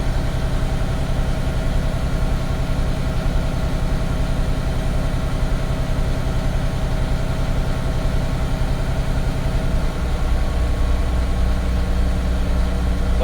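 A truck engine idles steadily through an air brake test, a loud, even low rumble with constant vibration and no talk, its pitch dropping slightly near the end.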